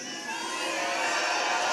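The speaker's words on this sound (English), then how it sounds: "Come on, Auburn, let's get loud, let's cheer, let's do this for Charlie." A large crowd at a TPUSA rally at Auburn University cheers and shouts continuously, a dense, loud wall of voices and whoops that builds steadily over the moment.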